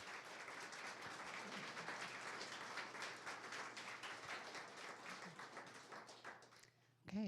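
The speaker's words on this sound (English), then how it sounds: "Please give them another round of big applause." A faint, steady round of applause from the audience at a literary event in Toronto runs for several seconds after a performance, dense clapping that thins out near the end.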